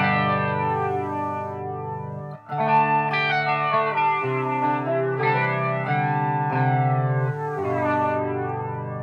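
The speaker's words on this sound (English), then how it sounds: "Next is a flanger." Electric guitar played through a flanger pedal on a pedalboard, strummed chords and arpeggiated notes with a sweeping, comb-filtered whoosh and chorus-like shimmer, loud and continuous with a brief dip midway.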